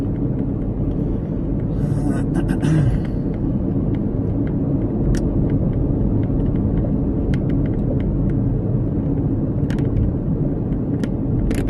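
A Mazda CX-5 rolls along Clinton Road in New Jersey, heard from inside the cabin as a loud, steady low road rumble with small knocks and rattles from bumps, and no talking.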